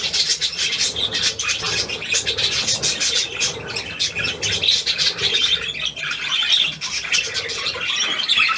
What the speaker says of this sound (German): Ah, Möwe.